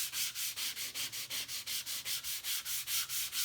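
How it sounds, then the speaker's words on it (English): Rhythmic sanding with 120-grit sandpaper on a guitar kit surface, about sixteen even back-and-forth strokes with light pressure, close and steady, with no talking. "I've already done a little bit of sanding here, I just want to demonstrate the surface"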